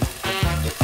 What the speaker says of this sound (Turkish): Güle güle ambalaj ve eti kızartalım.